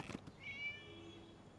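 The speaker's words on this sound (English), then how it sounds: "It was just a cat." A cat in the Genshin Impact video game gives one short, rising meow, fairly faint and heard on its own.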